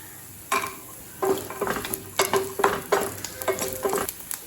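Cashews roasting slowly in a pan for moong dal payasam, with repeated stirring scrapes and soft sizzling in short bursts, close and moderately loud, no voices.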